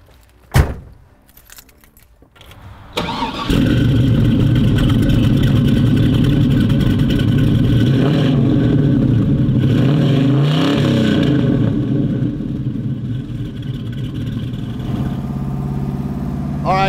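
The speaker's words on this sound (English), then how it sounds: "That motor is roaring" 1968 Chevrolet Camaro SS engine starts with a door thunk and handling clicks, then roars into a loud, steady rumbling rev that holds close and strong through the drive, with someone talking over it.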